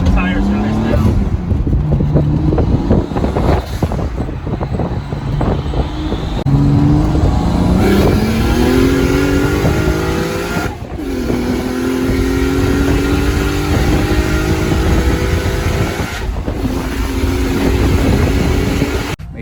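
Turbocharged M52-swapped BMW E30 325i coupe on 245 tires accelerating hard in repeated surging pulls, engine pitch climbing through gears with brief drops between shifts, loud and close, with tire spin under the continuous engine roar.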